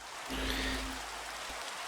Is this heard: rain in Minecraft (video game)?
yes